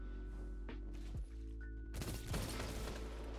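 Several sharp gunshots in Destiny 2 crack in quick bursts, the last ones louder and clustered, over a low steady hum.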